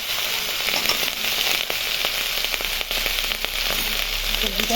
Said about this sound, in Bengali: সবজিটা এখন ভালো করে নাড়াচাড়া করে একটু ভাজা ভাজা করবো।